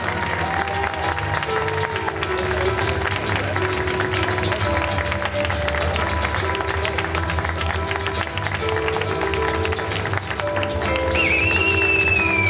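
A crowd at a geek convention cosplay parade applauds the cosplayers in continuous, even clapping, with music tones and scattered voices underneath and a rising whistle-like tone near the end.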